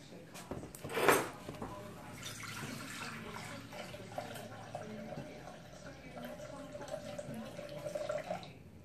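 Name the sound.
pouring liquid into bowls for chicken pie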